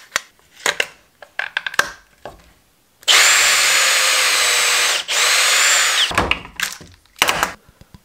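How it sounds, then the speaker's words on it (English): A power drill runs a bit fitted with a depth collar, boring a pocket hole into wood in a workshop; one steady, loud whir lasts about three seconds, with a brief dip midway, framed by handling clicks and knocks. "It goes in there, and you can see it pokes out just enough to drill your hole."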